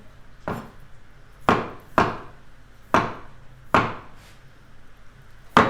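Risotto ingredients such as beetroot are chopped on a board, producing six firm, close knife thuds at a slow, uneven pace over faint background noise.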